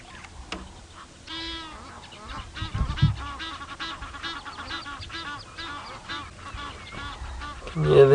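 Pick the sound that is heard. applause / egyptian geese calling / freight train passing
egyptian geese calling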